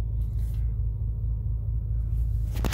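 A Bentley Continental GT Speed idles with a low, steady engine rumble, close and constant, swelling slightly near the end with no voices.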